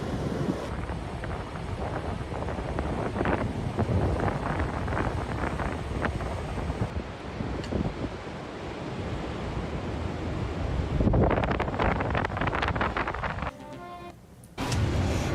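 Steady broad rush of water flowing beneath the ice of a frozen waterfall, a constant roaring wash with some wind buffeting, swelling louder briefly toward the end.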